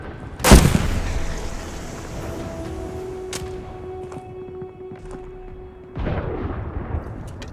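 Bomber strike in the Call of Duty: Vanguard video game: one loud, close explosive boom opens, followed by a long rumbling tail with a steady drone, then a second blast-like surge near the end.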